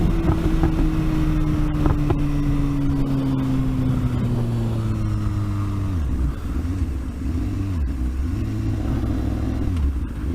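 A BMW S1000 motorcycle is ridden with its engine note gliding steadily down in pitch and then wavering as speed changes, under constant wind rush on the microphone.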